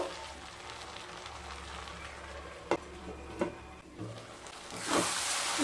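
Bottle gourd and potatoes sauté in a pan over medium heat with a soft, continuous sizzle, broken by a couple of sharp clacks from stirring and a louder hiss near the end.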